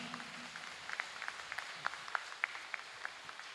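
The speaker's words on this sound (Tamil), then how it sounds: "நல்லா கைத்தட்டுங்க." Scattered, faint clapping rises from a church congregation during a sermon, irregular single claps spread out over quiet room tone.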